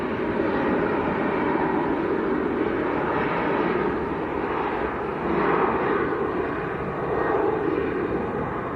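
Ethiopian airliner starting to taxi at Manchester Airport, its engines a moderate steady rumbling whine from some distance, with slight swells.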